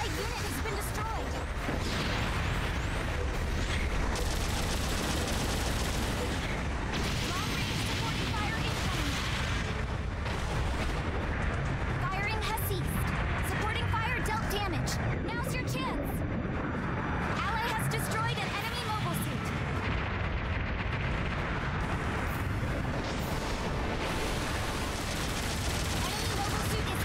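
Supporting artillery fire in Gundam Battle Operation 2 on the Jaburo map, a dense barrage of booms, blasts and gunfire across a noisy battle, with voices and callouts heard over the din.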